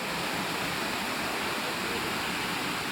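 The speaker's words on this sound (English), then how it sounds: "The fall is cascading downwards." Elephant Falls near Shillong cascading downward, a dense constant hiss and roar of falling water, steady and close, with no talking.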